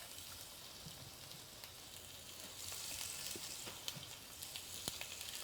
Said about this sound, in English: And then you want to add your pork chops to your skillet.